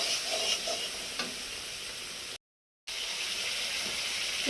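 Boiled potatoes fry in oil with a spice masala, making a continuous close sizzle with occasional stirring scrapes. The sound cuts out completely for half a second, then resumes at the same level.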